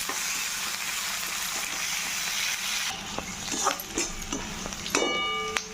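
Cumin, garlic and chili fry in hot oil in a pan for a prawn dish, giving a steady close sizzle throughout, joined near the end by stirring scrapes and a sharp metallic clang.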